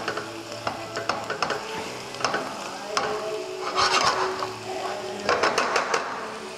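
Vegetables cooking in melted butter in a pan sizzle softly while a utensil scrapes and clacks against the pan in irregular stirring strokes, close by.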